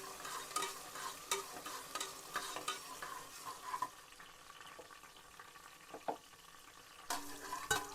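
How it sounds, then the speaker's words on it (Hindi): Prawns frying in hot oil in a home kitchen while cooking a Kashmiri meat and turnip dish: a steady, soft sizzle with occasional stirring scrapes and clinks, fairly quiet and continuous, no talking. "इसमें हम ऐड कर लेंगे प्रान, और प्रान हम अच्छे से फ्राई कर लेंगे।"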